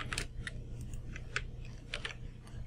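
A person types a line of code on a computer keyboard, a short series of irregular, fairly faint keystrokes heard over a low steady hum.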